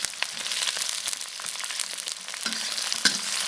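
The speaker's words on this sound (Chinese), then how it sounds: "把这洋葱炒一下啊" Sliced onions stir-fried in a little oil, a dense close sizzle punctuated by scraping and clacking of a spatula against the wok as they are tossed.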